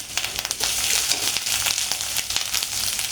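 Onions lightly frying in a pan while cooking okra with coconut, giving a steady close broadband sizzle with small crackles throughout and no voices.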